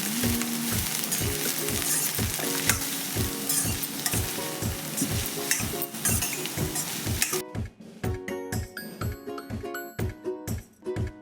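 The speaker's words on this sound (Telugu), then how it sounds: "ఇలా పొడుగ్గా కట్ చేసుకున్న క్యాబేజీని అలాగే క్యారెట్ని వేసి గరిటెతో కలుపుకుంటూ బాగా వేయించుకోవాలి" Shredded cabbage and carrot stir-fried in a hot pan, tossed with a ladle: steady loud sizzling under regular rhythmic scraping strokes, with a sharper clatter of utensil on metal toward the end.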